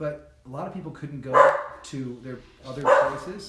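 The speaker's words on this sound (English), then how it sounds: "that's the dog again" A dog barks a few times nearby, sharp yelps peaking twice, mixed in with a person talking steadily over it.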